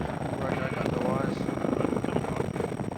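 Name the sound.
helicopter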